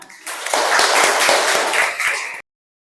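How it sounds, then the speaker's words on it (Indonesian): An audience in a classroom claps in a short, lively round, distinct hand claps building quickly and holding, then cutting off abruptly into silence. "Ya, tepuk tangan."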